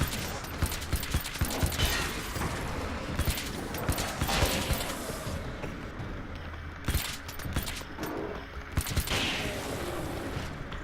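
Nail gun fire in Alan Wake's American Nightmare: rapid bursts of sharp mechanical shots in quick rhythmic volleys over a rumbling game backdrop, fairly loud and close, with brief pauses between strings of shots.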